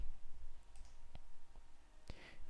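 Two or three sharp, isolated computer mouse clicks during Delphi debugging work, quiet and close against a faint hum, spaced about a second apart.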